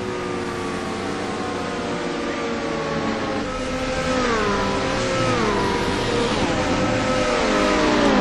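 Racing cars in a video game stream past on a track, a steady loud engine drone with several rising and falling pitch sweeps as cars pass close by, building slightly louder toward the end.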